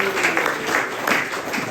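A church congregation gives a short burst of applause during a sermon, scattered clapping over a faint background murmur.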